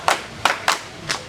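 Four sharp hand claps, unevenly spaced, sounding close and alone with no talk, forming a short clap pattern in an Indonesian classroom ice-breaker game.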